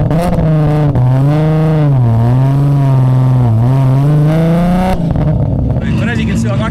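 Tuned Nissan GT-R engine pulling in third gear from low revs, a loud steady droning tone inside the cabin that dips and rises as it accelerates, with people talking over it.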